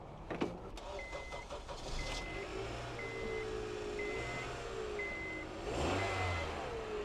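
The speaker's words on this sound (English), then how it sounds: "The engine sounds all right" At a dealer-only car auction, a used car that had a weak battery is jump-started. Electronic chimes beep repeatedly inside the cabin before the engine cranks and catches near the end, rising into a steady idle with no talking.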